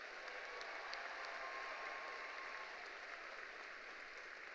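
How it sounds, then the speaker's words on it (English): Arena crowd at a high school graduation ceremony applauding the graduates, a distant, even roar of clapping that stays steady and faint throughout. "put our hands together and give our graduates a round of applause."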